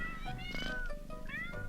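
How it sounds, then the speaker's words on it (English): A small tabby cat meows several times in a short run of rising and falling cries, close and fairly quiet, with no talk. "Sammy approaches the small tabby cat"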